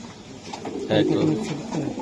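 A racer pigeon in a loft gives a soft, low cooing call, close by, while people talk nearby.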